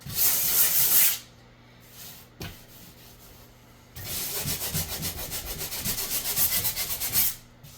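Fine-grit sandpaper rubs over a drywall patch in close, hissing strokes, one short burst, a pause with faint scuffs, then a longer rhythmic run of back-and-forth sanding.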